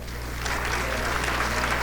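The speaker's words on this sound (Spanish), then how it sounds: "Fuerte el aplauso para ella." A conference audience applauds a political analyst from the OECD public governance division at a health-systems event, producing steady, dense clapping that fills the room at an even level throughout.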